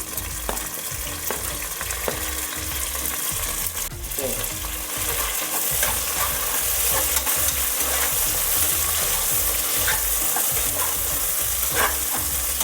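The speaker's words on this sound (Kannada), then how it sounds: "ಈಗ ಎಣ್ಣೆಲೆಲ್ಲ ರೋಸ್ಟ್ ಆಗಿದೆ, ಅದಕ್ಕೀಗ ಪುದೀನನ ಹಾಕ್ತಾ ಇದ್ದೀನಿ" Fresh mint leaves frying in hot oil with bay leaves, a continuous close sizzle broken by repeated scraping and stirring strokes against the pan.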